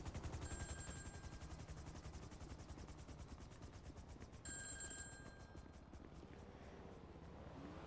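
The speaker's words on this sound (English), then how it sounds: "Come on, answer the phone. Answer the phone." A phone rings inside the GTA Online video game in two bursts of repeated tones, faint and under constant rattling gunfire and rotor-like game noise.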